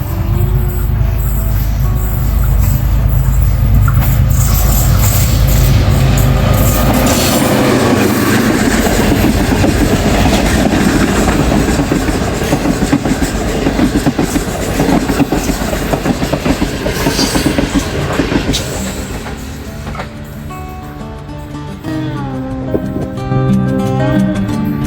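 The Green Line 6 Down train passes Mankiyala railway station on a big curve, rumbling loudly up close with rhythmic clickety-clack of wheels on rail, then easing off as it moves away, with a faint squeal near the end.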